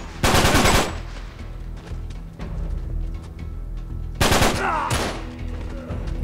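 Loud, close gunfire from a gun in Uncharted 3: Drake's Deception, with a dense automatic burst at the start and a second burst near the end, separated by quieter game ambience and a few scattered single shots.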